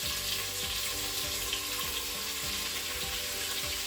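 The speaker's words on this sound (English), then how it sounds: "Using a spatula, we want to give that a stir." Onions fry in a Crockpot Express multicooker with a loud, continuous sizzle and repeated spatula strokes, with a low tonal hum underneath.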